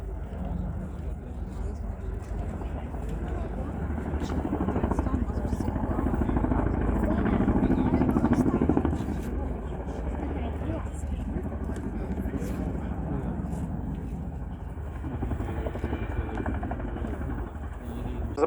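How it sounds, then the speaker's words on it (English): A large military battlefield helicopter thumps and drones steadily nearby during an air show flying display, its rotor noise swelling and easing as it manoeuvres, while a voice talks over it. "This display today demonstrates how surprisingly manoeuvrable this large helicopter is."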